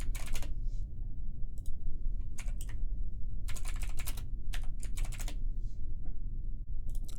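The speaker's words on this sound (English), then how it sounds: "let me type that in here too" Typing on a computer keyboard sounds in quick clustered bursts of clicking keystrokes with short pauses between, close and clear over a low steady background hum.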